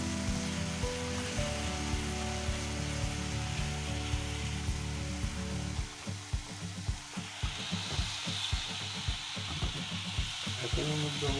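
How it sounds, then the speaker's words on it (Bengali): Spices frying in oil in a pan for a pabda fish curry: a steady low hum first, then an oily sizzle with a series of scraping stirs in the second half, fairly close and with no talk. "এখন এটা সব মশলা দিয়ে কষাচ্ছি"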